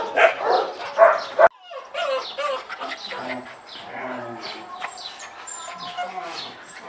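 A dog barks in loud bursts at first, then whimpers and yelps in softer, higher cries, close by, with chirping sounds in the background.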